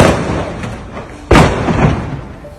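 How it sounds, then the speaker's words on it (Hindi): Firecrackers blast inside a burning fireworks warehouse in Dehradun's Transport Nagar: one loud, sharp boom stands out over a rumbling background of fire and scattered smaller pops, heard from a distance. "पटाखों के धमाके की आवाज।"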